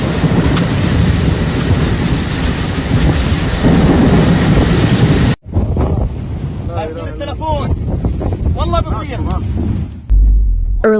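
Torrential rain and a violent thunderstorm near Mecca, on Asfan Road northeast of Jeddah, roar as a loud, steady broadband wash that cuts off abruptly midway, giving way to a quieter rumbling stretch with faint voices underneath.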